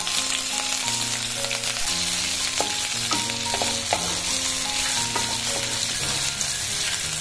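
Chopped ginger and three large green chillies frying in hot oil for dahi paneer, giving a steady, continuous sizzle beneath melodic background music.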